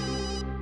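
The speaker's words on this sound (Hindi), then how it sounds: "घंटी तो लैब में बज रही है," Telephone ringing in a crime lab, a short steady electronic ring with bright harmonic tones, heard alone at moderate level and cut off after a brief burst.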